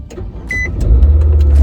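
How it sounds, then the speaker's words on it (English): Car engine idling and pulling away for a drive home, low steady rumble rising and thickening over the second half, with a brief high electronic tone near the start. "All right, I'm gonna drive home."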